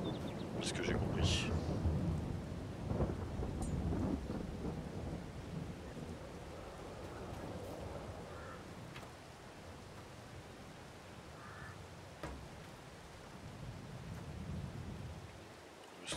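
A Farming Simulator 22 thunderstorm: low rumbling thunder rolls loudly at first, then fades into a steady hiss of rain with a few scattered sharper cracks.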